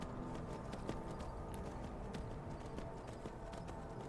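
A horse in the Skyrim video game trots along a mountain road, its hooves clip-clopping in a steady rhythm over a constant dense background of game ambience.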